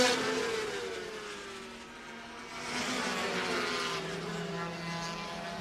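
A MotoGP racing motorcycle accelerating out of a corner at Assen, its engine note rising and sweeping upward at a distance, faint and thinned by broadcast, with the pitch climbing through gears.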